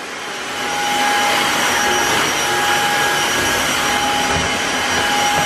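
A Tineco Floor One S3 wet and dry vacuum cleaner on maximum mode swells up within the first second into a loud, steady whirring whine with a sharp high tone, holding constant throughout with no talking.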